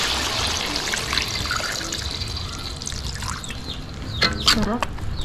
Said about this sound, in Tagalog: At maglalagay na tayo ng tubig mga kasolid,